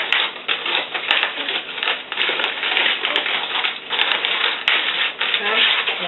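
Aluminum foil crinkles and rustles continuously as food is wrapped in a kitchen while cooking turkey meatballs, a dense, close crackling texture with uneven bursts throughout.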